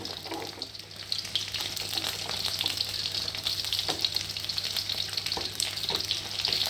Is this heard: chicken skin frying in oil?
yes